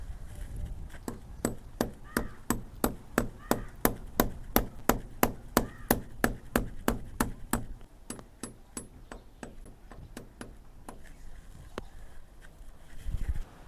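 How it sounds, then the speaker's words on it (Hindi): Hammer blows drive a nail into a concrete lintel, about thirty sharp, evenly spaced strikes in a steady rhythm, fairly close and loud, ending in a few scattered taps and a short rustle. "तो चलो उस लेंटर के पास में मैं इनको ठोक देता हूँ।"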